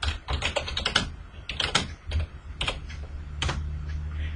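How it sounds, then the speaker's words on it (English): Rapid keystrokes on a computer keyboard while entering text in a word processor, a steady run of close, crisp clicks with brief pauses, no talking. "Press enter a couple of times and type table of figures."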